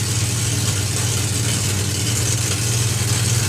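A top fuel funny car drag racing engine runs at a drag strip, a constant loud, heavy roar with deep low rumble. It holds steady and unbroken throughout, with no talking.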